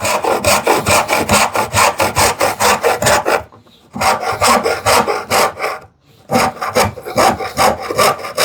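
A hand saw crosscuts a wooden board for a hand-tool TV unit build. Close, rhythmic rasping strokes run steadily, pause briefly twice, then resume with no talking.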